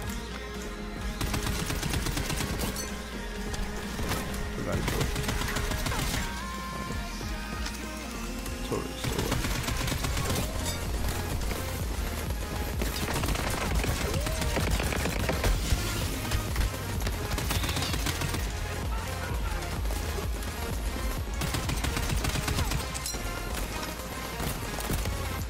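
Rapid gunfire in the video game Borderlands 3, a dense stream of shots packed under loud game music and effects that run continuously for the whole stretch.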